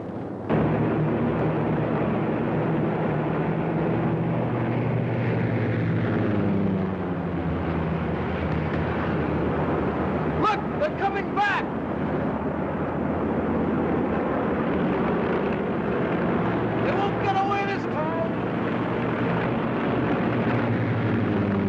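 An airplane engine drones steadily in flight, a continuous low hum that fills the scene, with a couple of brief sharper bursts midway.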